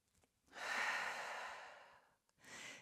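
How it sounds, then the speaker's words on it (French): A single deep breath during a yoga session: a long, close, airy exhale of about a second and a half, followed after a short pause by the start of another breath. "Une grande respiration."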